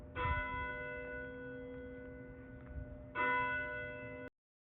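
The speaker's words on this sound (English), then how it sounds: "I heard the ring of the church bells." Two clear bell strikes ring out a few seconds apart, each a resonant tone that hums and slowly fades, moderately distant, with no voices.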